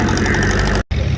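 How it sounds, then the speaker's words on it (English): An antique Super C tractor engine idles loudly and close at a tractor pull, a steady throbbing knock that cuts out for a split second before resuming. "this is one of the tractors we waited for today, and this is a Super C"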